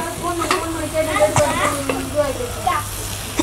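Goat boti pieces sizzle in a pan with pepper as a spoon stirs them, giving close, steady frying crackle with repeated scraping strokes and no talking.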